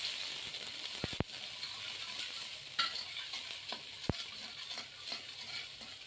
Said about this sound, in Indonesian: aku mau tumis 5 siung bawang merah yang sudah diiris-iris